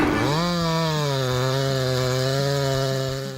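A chainsaw runs at full throttle while cutting storm-broken trees, one loud, close, continuous buzzing whine that climbs slightly in pitch and holds steady for several seconds before easing off at the end.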